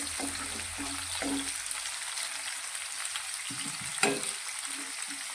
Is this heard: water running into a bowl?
no